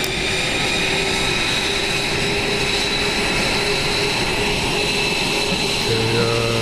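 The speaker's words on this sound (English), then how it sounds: "So we're going to fly this airplane." Steady, loud airplane engine drone in the VRChat video game, a continuous even roar with a faint tonal whine and no pauses.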